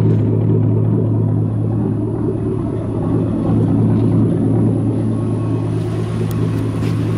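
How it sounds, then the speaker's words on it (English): A lifted mall crawler's dual exhaust, running through an X pipe, gives a steady low rumble that stays loud and continuous close by, with no talking over it. "that dual exhaust though."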